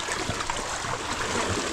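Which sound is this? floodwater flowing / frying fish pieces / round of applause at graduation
floodwater flowing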